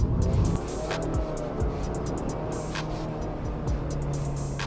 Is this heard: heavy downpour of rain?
no